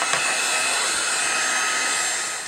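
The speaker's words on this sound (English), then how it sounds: "I should dry this because it's coming off all over me." A hair dryer blows steadily on an art journal page, a loud continuous whirring hiss with no talk, holding level throughout and easing slightly at the end.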